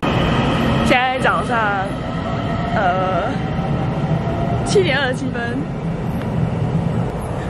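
A steady low rumble of a train ride carries through the whole stretch, with a person speaking over it in short bursts.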